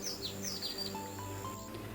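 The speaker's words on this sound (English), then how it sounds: "birds chirruping on the wing" Small birds chirp and twitter in a quick run of high, faint calls over a steady low background hum.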